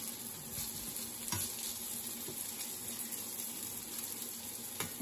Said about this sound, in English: I'm going to turn my burner off because these will still keep cooking.